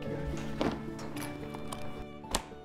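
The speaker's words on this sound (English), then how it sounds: "big, beautiful horses known as Black Clydesdales" Big Black Clydesdale horses walk on a Tennessee farm, a few hollow hoof clops spaced out over a sustained musical background.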